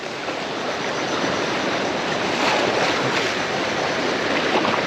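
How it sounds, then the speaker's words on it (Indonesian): Big ocean surf breaks on a long beach, a loud continuous wash of crashing, rushing water with wind and no voices. "Ini ombaknya sedang besar sekali teman-teman."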